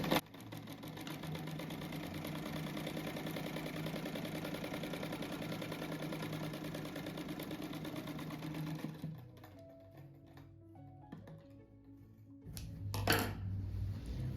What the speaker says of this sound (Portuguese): Eu vou passar de novo a costura que tinha escapado o fio ali